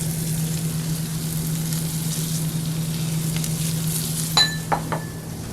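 Diced onion and sliced garlic frying in a touch of virgin oil for pork chops with vinegar peppers, a steady low sizzle with a constant hum, then a couple of brief utensil clinks near the end.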